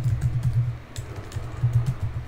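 Keys clatter on a computer keyboard in a steady, quick run of taps while a post name is typed, close and fairly loud with no talking.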